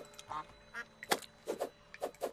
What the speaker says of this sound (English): You hear a duck?